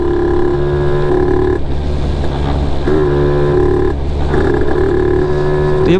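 A 1987 Honda NSR50 motorcycle with an oversized carburetor and no airbox idles and revs in steady, throaty pulses, the engine note rising and falling several times close by, with no talking.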